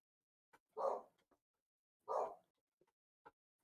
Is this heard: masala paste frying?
no